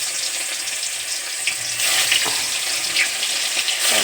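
Eggs frying one by one in hot oil give a steady, close crackling sizzle throughout, growing a little louder and denser midway with scattered sharper pops, and no voices.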